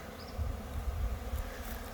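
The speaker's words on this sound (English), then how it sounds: "it was a pretty good amount of bees like this right here" Honey bees from a freshly caught swarm hum in a steady low drone close by, a thick continuous buzz with faint higher wingbeat whines passing over it.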